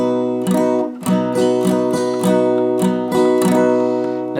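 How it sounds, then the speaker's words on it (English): A guitar chord strummed with a thin pick, played alone and close, rings with repeated strokes at a steady rhythm; each stroke carries a bright attack. "This is a thin pick right here, and I'll just strum a chord with the pick."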